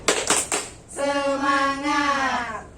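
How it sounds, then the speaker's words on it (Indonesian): A group of women does a rhythmic clapping chant at a community training session, three quick clap bursts followed by a sustained sung vocal phrase. "Kalau gitu kita kasih tepuk semangat dulu ya biar lebih semangat"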